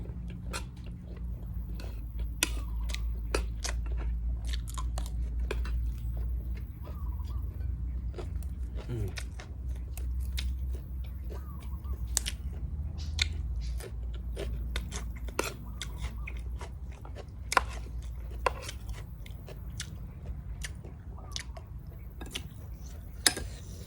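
Breakfast of fried egg and basil stir-fried squid being eaten outdoors, with soft scattered clicks and taps of utensils on plates and chewing sounds over a steady low background hum; voices murmur faintly at times.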